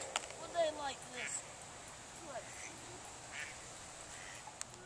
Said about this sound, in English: We got some ducks.